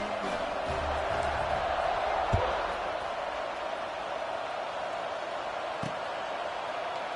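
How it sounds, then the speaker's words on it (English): Football stadium crowd at an East Carolina game buzzing after a score, a steady broad roar of many voices filling the whole stretch with a couple of brief thuds. "this crowd is buzzing after that last score."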